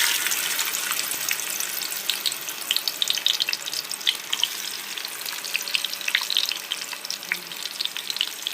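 Onion sautéing in a hot pan for a mung bean and spinach dish, a steady close sizzle with crackling pops throughout, loud and continuous with no talk over it.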